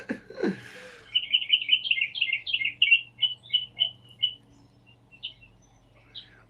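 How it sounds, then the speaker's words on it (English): Birds chirp and twitter in a quick run of bright, close notes over a soft low background hum, then scatter into a few sparse calls that trail off toward the end. "You have a little bit of the birds from Jim, and my birds as well."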